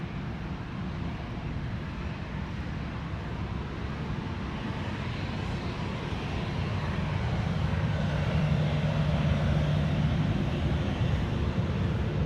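A Qantas Boeing 737 departing Sydney Airport, a steady distant jet engine roar that swells slightly over twelve seconds, with no voices.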